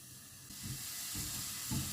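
Beetroot dropped into hot oil that is not yet fully heated gives a steady hiss and sizzle, with soft bubbling bursts swelling at intervals. The sound is close, and no one speaks.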